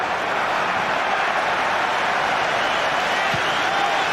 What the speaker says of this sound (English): Crowd pleased with the way England cleared their lines.